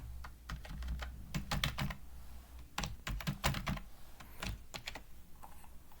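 Typing on a computer keyboard while entering an HTML tag, with rapid uneven bursts of close key clicks separated by brief pauses.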